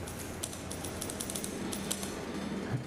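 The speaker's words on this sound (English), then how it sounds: "Very tall typewriter." A typewriter clacks in the Dishonored 2 video game trailer, sparse crisp keystrokes tapping irregularly over a steady background hum.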